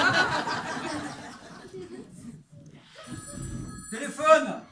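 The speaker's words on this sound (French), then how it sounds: "Téléphone." A telephone bell rings in short bursts, loud and close, while people talk and chuckle over it.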